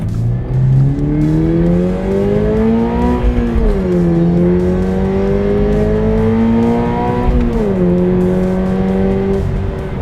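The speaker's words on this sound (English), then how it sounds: "First, you can probably hear the exhaust." A 2022 Subaru BRZ's exhaust roars and rises in pitch through several gear changes, loud and close, with no voices.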